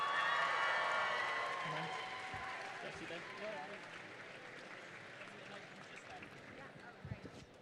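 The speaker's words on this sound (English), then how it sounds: "let's have the biggest round of applause and cheers" A large convention crowd in London applauds and cheers for Hayley Atwell, a loud, dense wash of clapping and shouting that starts at full strength and slowly fades over several seconds.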